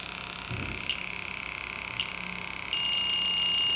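Fieldpiece SRL2 infrared refrigerant leak detector in turbo mode giving a steady, solid electronic tone that holds continuously and steps up louder near the end, with a few faint clicks and no talking.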